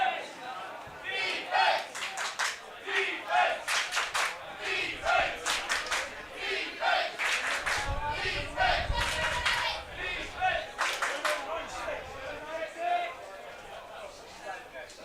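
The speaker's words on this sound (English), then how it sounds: "Welsh crowd getting behind their team now" Welsh home crowd cheering and shouting at an under-20 men's lacrosse championship match against Latvia, a dense, steady roar with rhythmic bursts of yelling under a commentator's voice.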